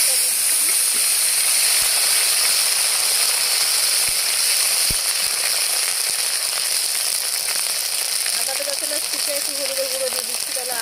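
Panch phoron and bay leaves sizzling in hot oil, a loud steady hiss and crackle that continues throughout, with a voice briefly heard near the end.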